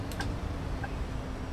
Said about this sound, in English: We got our turn signal on.